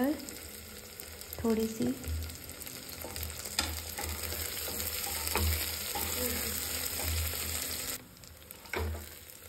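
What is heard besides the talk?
potatoes and carrots frying in a pan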